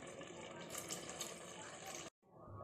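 Water pours steadily into a pot for pongal in a home kitchen, a close continuous splashing fill that cuts off abruptly near the end.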